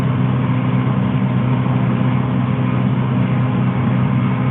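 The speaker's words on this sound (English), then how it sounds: "hopefully y'all can hear me okay in this little tractor. It's not as quiet as the other two" A small Kubota M70-60 tractor engine runs steadily and loudly while raking hay, a constant low rumble with no other sounds over it.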